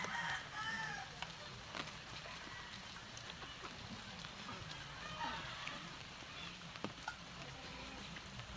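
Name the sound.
chickens clucking and rooster crowing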